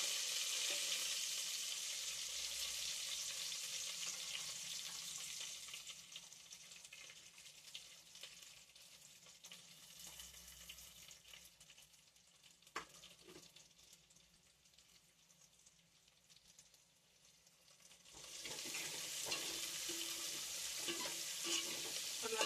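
Onions, dried red chilies and curry leaves frying in a pan for sambar: a steady hiss and sizzle with light stirring, fading to near quiet in the middle before the sizzle rises again, with no voices.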